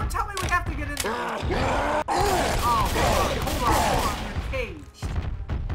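Rapid gunfire from a Left 4 Dead 2 Silent Hill mod shootout in a hospital, sustained bursts of shots mixed with groans and shouted voices, loud and continuous with a brief dip near the end.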